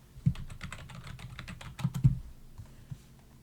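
Fingers tap out a short word on a computer keyboard in a quick, close run of light clicks lasting a few seconds, followed by a couple of final keystrokes and no talk.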